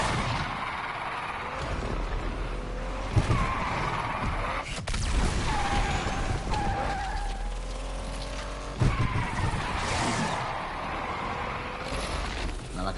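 A drift car skids in No Man's Sky, its tires squealing in long wavering whines over a roaring engine, with brief impacts and sustained sliding across the whole stretch.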